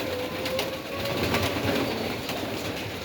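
Domestic pigeons of various colours coo in a dovecote, soft low calls rising repeatedly over a steady background hum.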